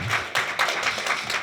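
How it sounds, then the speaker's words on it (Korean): A church congregation at a Sunday worship service applauds steadily, a dense wash of many hands clapping at close range with no break. "다시 한번 우리 큰 감사의 박수, 격려의 박수 보내드리겠습니다"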